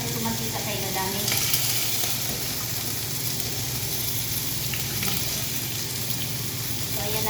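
Brown rice going into a pot of boiling water with a little cooking oil, giving a steady, even bubbling and sizzling hiss throughout with faint occasional clinks, no talking.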